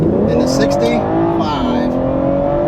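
A BMW 440i with slotted and drilled brake kit brakes hard from 65 mph: tire and road roar with engine tone falling as the car slows, brief squeal-like bursts, and a voice speaking over it.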